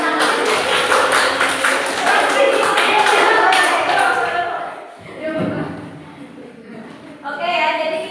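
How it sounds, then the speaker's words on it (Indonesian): A classroom group claps for presenting student teams in a short burst of applause that fades after a few seconds. Voices and a few taps follow. "Tepuk tangan lagi untuk semua kelompok"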